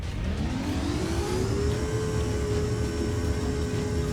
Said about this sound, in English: I don't know if they come with the same engine, but it doesn't sound like it.